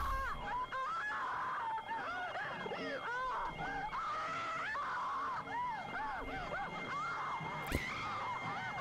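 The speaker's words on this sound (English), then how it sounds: "This movie just likes making women scream, doesn't it?" Women scream in a horror movie, Monsters of Terror, with sustained, wavering high-pitched shrieks over a loud soundtrack and a sharp bang near the end.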